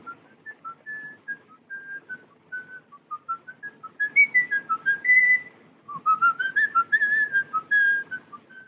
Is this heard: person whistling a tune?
yes